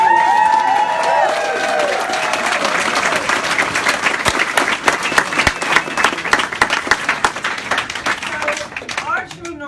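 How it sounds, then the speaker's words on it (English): A crowd at a reception for national marriage-equality plaintiffs bursts into applause and cheering, loud and close at first, then thinning into scattered individual claps toward the end. A voice is briefly heard at the start. "A round of applause to every plaintiff."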